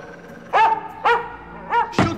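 A dog barks four times in quick succession in a scene from the 1993 film Ticks. The barks are loud, close and sharp, with brief gaps between them.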